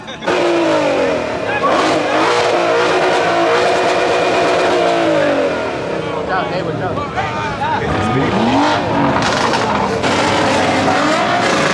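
A loud car engine roars and revs continuously at a car meet, rising and falling in pitch, close by, with voices and crowd noise mixed in.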